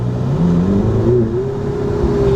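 A 2018 Ferrari 488 Spider's turbocharged V8 pulls under light throttle, its engine note rising smoothly and steadily with a continuous, close, loud drone and no voices over it.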